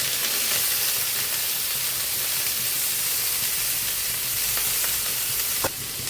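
Potato pieces fry in a pan of hot oil for a Bengali fish-head and pointed gourd chorchori, giving a steady, close, even sizzle throughout with one brief utensil clink near the end.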